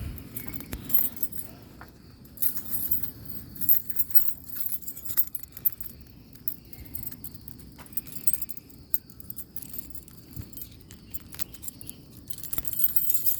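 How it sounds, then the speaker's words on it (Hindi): A bunch of keys jangles steadily at close range while someone hunts for the right key outside a house at night, with light metallic clinks and rustles and no talking. "चाबी ढूंढ रहा हूँ, चाबियों में चाबी ढूंढना मुश्किल हो रहा है।"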